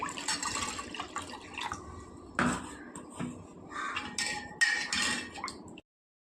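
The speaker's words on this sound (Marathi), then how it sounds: "ह्याच्यामध्ये मी थंडगार पाणी घालते थोडं." Cold water is poured into a spiced buttermilk mixture with black salt in a home kitchen, a close, fairly loud stretch of splashing and trickling with a few sharp clinks from the vessel, stopping abruptly near the end.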